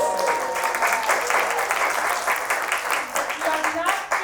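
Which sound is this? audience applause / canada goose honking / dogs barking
audience applause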